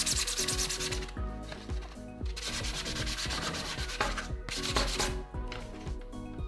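3D printed Iron Man suit parts are scuffed with sandpaper in rapid rhythmic back-and-forth strokes, a loud close rasping with brief pauses between passes.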